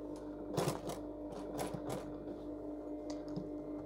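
A sewing machine runs slowly around the curve of a trouser zip, its close mechanical stitching coming in short uneven bursts with light ticks between them.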